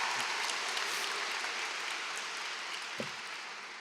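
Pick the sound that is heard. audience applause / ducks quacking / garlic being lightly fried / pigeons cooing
audience applause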